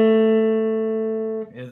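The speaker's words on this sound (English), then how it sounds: "So the 2-chord sounds like this." A 2-chord played for ear training sounds as one steady sustained chord, held evenly for about a second and a half before fading into a brief jumble of other tones.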